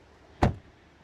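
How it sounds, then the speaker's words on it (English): A BYD Seal 6 Touring DM-i estate car door shuts once with a single solid, close thud that fades quickly into quiet. "Very solid door closing sound."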